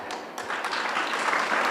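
Applause from an audience at a student business talk, a steady hissing wash of many hands clapping that builds slightly in intensity, moderately loud with no speech over it.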